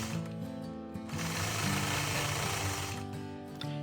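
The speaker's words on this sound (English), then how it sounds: "I'll start out this design by stitching in the ditch all the way around the outside of the block." A Gammill longarm quilting machine stitches in the ditch around a quilt block, giving a steady, close, rapid mechanical hum and rattle that runs without a break and swells slightly midway.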